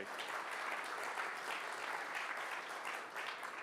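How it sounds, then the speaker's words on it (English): Keynote audience at Imagine 2025 claps in a broad, even wash that holds steady for several seconds, heard softly and at some distance. "So I want a round of applause for everyone that's been involved with this."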